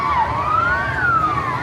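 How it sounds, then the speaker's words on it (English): Wave pool siren at the Enchanted Forest Water Safari in Old Forge, a steady, loud wailing tone that rises and then falls slowly, heard alone in the open air over a busy water park. "I think the waves are starting up. That's what that siren was."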